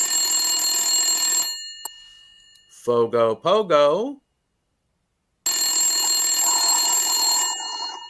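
A telephone bell rings in a loud, steady, continuous burst, breaks off while a voice speaks briefly, then resumes ringing just as loudly after a short silence.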